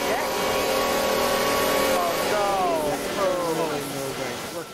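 A Humvee in a video game sounds a loud rising and falling whistle over a droning engine, several sweeping tones sliding up and down in succession, fairly close.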